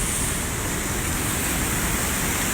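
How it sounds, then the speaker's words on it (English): Rain from Hurricane Dorian falls at a beach resort on St. Simons, a dense, even hiss that continues steadily without a break, with no voices. "Now it's starting to rain."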